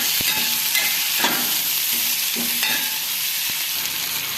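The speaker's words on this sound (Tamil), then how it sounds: "சட்டியில் எண்ணெய் சூடானதும் அதில் வந்து கடுகு வெந்தயம் வெள்ளை கூடு கருவேப்பிலை வெங்காயம் எல்லாம் வதக்க வேண்டும்" Onions, mustard seeds, fenugreek and curry leaves sautéing in hot oil in a pan for egg kuzhambu: close, continuous frying sizzle with repeated stirring scrapes and clinks, no voices.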